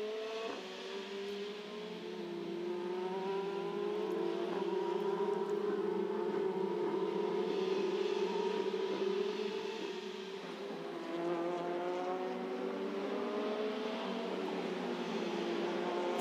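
Formula Renault Eurocup race cars lapping the Hungaroring, a steady high engine whine with shifting pitch as the cars run down the straight at a moderate distance, continuous throughout with a brief dip midway.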